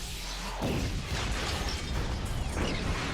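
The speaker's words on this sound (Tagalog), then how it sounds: "Sumabog ang unang sasakyan." A rocket blast hits the lead car of a motorcade: a loud, harsh explosion bursts out, then a roaring crackle of debris and noise fills the rest of the clip.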